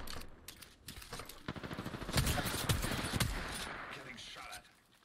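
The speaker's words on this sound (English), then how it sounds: "Getting shot at. Taking fire." Bursts of rapid automatic gunfire aimed at the player in Apex Legends, rattling volleys that build, peak loudly in the middle and fade out, with voices mixed in.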